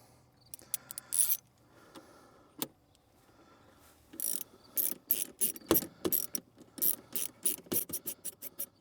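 Ratcheting clicks from a tool tightening a fitting on a leaking pool hose, starting with a few sparse clicks, then rapid bursts of sharp metallic ratchet strokes, close and alone.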